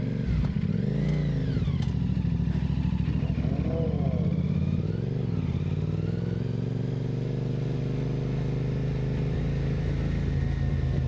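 A CFMOTO 450SS sport motorcycle rides through traffic, its engine droning steadily close to the microphone with rising and falling revs, wind rush, and other road vehicles in the background.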